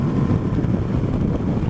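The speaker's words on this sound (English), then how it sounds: "I could get used to this wind in my face" Wind roars past on a ride aboard a Kawasaki Z900RS motorcycle, a dense, continuous low rumbling buffet with no break.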